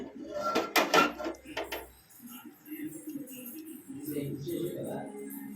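A pan set onto a stove gives a quick run of close metallic clinks and clatter at the start, followed by a person talking.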